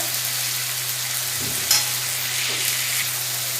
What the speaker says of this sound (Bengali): আদা পেস্ট এক চামচ দিয়ে দিচ্ছি এক চামচ আর একটু বেশি এটাকে কষিয়ে নেব